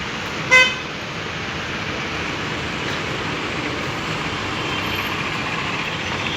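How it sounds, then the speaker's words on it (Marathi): A traffic jam on the Chakan–Talegaon road: one short car horn toot near the start, then a steady low rumble of idling and creeping vehicles. "देहू फाटापर्यंत ट्रॅफिक जाम झालेला आहे"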